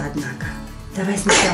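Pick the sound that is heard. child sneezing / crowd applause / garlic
child sneezing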